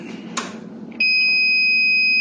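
A HEINRICH DVA8-500W wall-mount voice evacuation system sounds its evacuation alarm: a loud, steady electronic tone that starts abruptly after a brief click and holds continuously.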